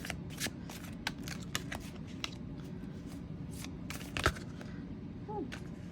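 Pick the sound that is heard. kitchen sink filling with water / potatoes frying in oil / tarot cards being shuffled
tarot cards being shuffled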